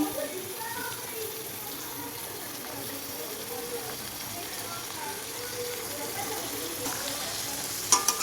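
Marinated mutton frying in a pan makes a soft, steady sizzle with a faint watery crackle, fairly quiet and close. A couple of sharper clatters come near the end.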